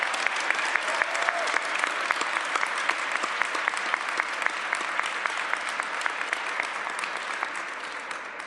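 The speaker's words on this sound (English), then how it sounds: "I'd like you all to join me once again in a round of applause for the support the Government of Alberta is showing us" An audience at a government funding announcement for health education applauds, giving a steady, dense roar of clapping that lasts throughout and fades slightly at the end.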